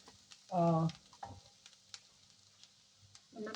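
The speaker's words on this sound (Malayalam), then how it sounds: "സവാള ചേർക്കുക. ഇത് നന്നായിട്ടൊന്ന് കുറച്ച് സമയം ഇതാക്കും" Sliced onion frying in a pan for a red cheera (amaranth) thoran: soft, faint sizzling and light stirring scrapes, with a short burst of voice near the start and another at the end.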